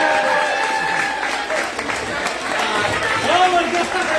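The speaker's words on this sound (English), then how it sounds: "everyone give a round of applause for Cool." An audience at a stand-up comedy night claps and cheers in sustained, fairly loud applause, with crowd chatter and voices mixed through it.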